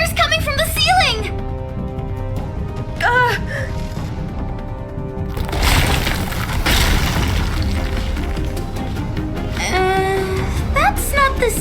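Walls and ceiling of a flooding bunker crack and groan in the Nikke x Stellar Blade game, a broad rumbling burst swelling mid-clip amid loud music and voices talking.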